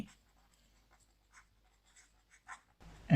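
A pen scratches out a maths solution on paper in short, faint strokes separated by pauses, with a louder rustle at the end.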